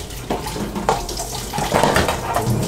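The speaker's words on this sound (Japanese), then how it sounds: "だからパパがまた洗うから、大地はこれは泡をちゃんと落として、こうやって OK" Running water rinses soapy dishes at an outdoor camp sink, a steady close splash and gush with small bumps of plates and utensils under the stream.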